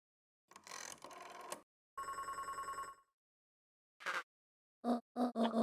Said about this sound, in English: And now she's gonna get a phone call.